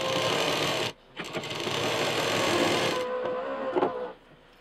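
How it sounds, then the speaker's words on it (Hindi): A sewing machine stitches a zip, a lining and an embroidered piece together in fast, close whirring bursts, stopping briefly before running on and trailing off. "इसमें एम्ब्रॉयडरी वाले पीस पर उल्टी जिप ऐसे रखेंगे और इसके ऊपर लाइनिंग लगा देंगे और तीनों को एक साथ सिल देंगे।"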